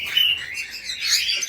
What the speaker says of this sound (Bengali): এই যে লাভবার্ড পাখিগুলা